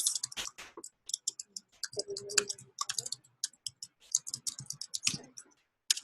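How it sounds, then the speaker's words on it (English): Someone types on a computer keyboard in quick irregular bursts of crisp clicks, pausing briefly between runs, close and fairly quiet. "You can type in the link here"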